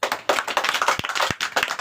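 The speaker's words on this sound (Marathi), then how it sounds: "चला सगळ्या तुमच्यासाठी जायला टाळ्या वाजवा" A group of children clap their hands in a classroom, a quick ragged patter of many claps that runs steadily, with a couple of louder, sharper claps standing out near the middle.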